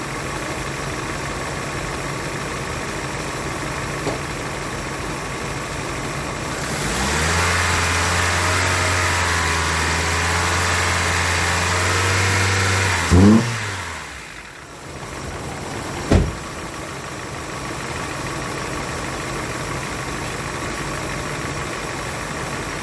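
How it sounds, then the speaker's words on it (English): A Honda Civic engine with multiple faults idles with a steady low hum around 800 RPM, then revs up sharply in a short burst before dropping off; a couple of brief clunks follow. "I'm gonna rev it up and see what it do."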